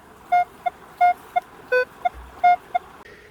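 Metal detector tone signals over an old iron button and nails in a woodland clearing, repeated loud beeps in a long-short rhythm, about four pairs, close and clear with no talking.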